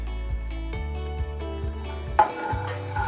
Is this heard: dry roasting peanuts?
yes